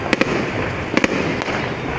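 Fireworks going off around a bridge: a few sharp, separate pops and cracks over a steady wash of crowd and ambient noise.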